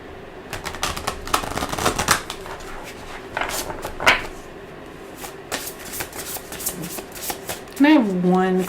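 Shaman's Dream oracle cards are shuffled in close, quick bursts of riffling and flicking across several seconds, with a voice speaking briefly near the end.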